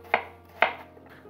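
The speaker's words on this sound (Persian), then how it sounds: "توی این پیازی که دارم خرد میکنم" A knife chops through onions on a board in two sharp, close knocks about half a second apart, with a fainter third tap trailing off.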